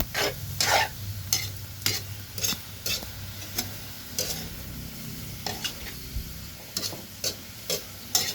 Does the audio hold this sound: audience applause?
no